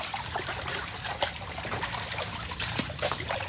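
Water trickles and flows steadily out of a freshly dug fishpond on a farm, a continuous splashing stream with no talking.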